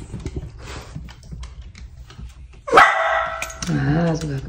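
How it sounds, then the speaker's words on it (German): A worked-up dog gives a loud close bark followed by a drawn-out whining yelp indoors, with quieter talk and household noise beforehand. "Ah, sogar gebellt."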